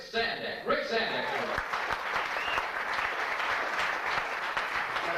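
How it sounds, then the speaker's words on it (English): A comedy club audience applauds a comedian coming on stage, a dense, even round of clapping that holds for about five seconds, with a voice briefly heard over it at the start. "So please bring him up with a round of applause"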